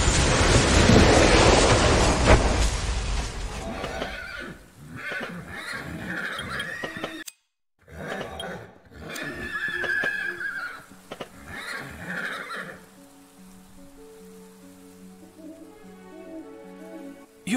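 A spooked horse pulling a wagon in the game Endless Fables 3: Dark Moor, giving a loud, shaky neigh at the start followed by snorts and hoof sounds, with music and ambience building afterward.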